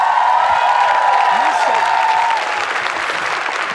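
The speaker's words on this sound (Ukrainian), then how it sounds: "Ваші оплески, панове!" Loud applause from the audience at Ukraine's national Eurovision 2016 final selection show, a thick sustained roar of clapping, with a held musical tone and a voice faintly audible over it.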